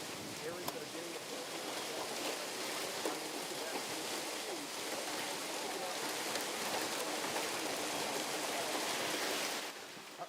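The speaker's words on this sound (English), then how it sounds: "This is big hail, which is coming into north central Austin right now." Big hail pounds a roof in north central Austin during a severe storm, a dense, loud, continuous roar of impacts that stays steady and then eases slightly at the very end.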